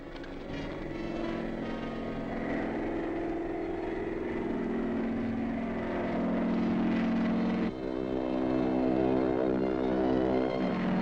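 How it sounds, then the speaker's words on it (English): A propeller airplane approaching in a 1941 film, a steady droning engine hum that holds and gradually grows fuller and louder, with the pitch of the drone shifting partway through. "I can hear the plane coming."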